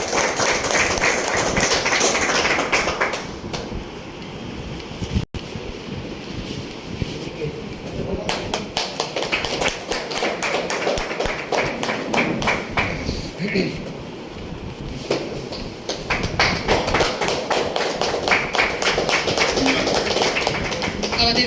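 Loud, sustained applause and clapping from an audience at a winter tournament prize distribution ceremony, continuing across the clip with a brief dip midway before swelling again.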